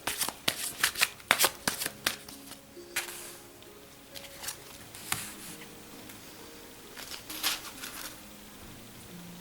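Tarot oracle cards being shuffled by hand, with quick papery riffles and soft slaps in irregular bursts, close up and clear, with faint tonal sounds in the background.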